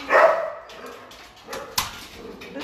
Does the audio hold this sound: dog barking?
yes